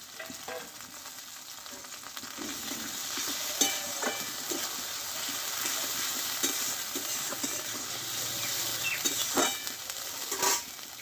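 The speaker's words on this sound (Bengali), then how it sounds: "দিয়ে একসঙ্গে মশলাটা আমি কষে নিব" A masala of tomato, ginger and green chili sautés in a pan with a steady, bright sizzle, while a spatula stirs through it now and then with light scrapes and taps.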